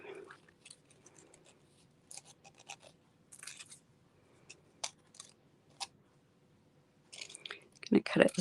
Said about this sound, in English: I'm going to go in and cut that,